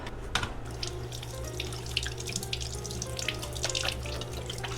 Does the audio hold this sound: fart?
no